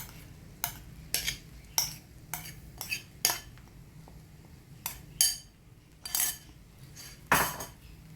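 A metal spoon scrapes and clinks against a pan as masala is stirred into egg fried rice, giving irregular sharp taps and scrapes over a low background hum.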